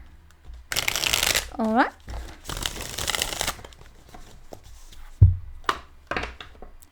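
A deck of tarot cards is shuffled in two long riffling bursts close by, with a short voiced exclamation between them and a soft thump near the end.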